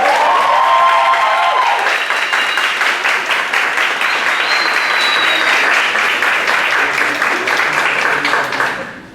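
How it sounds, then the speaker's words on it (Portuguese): A seated audience at a panel on podcasting breaks into sustained, loud applause, dense clapping that holds steady for several seconds before tapering off abruptly at the end. "uma salva de palmas para apresentar."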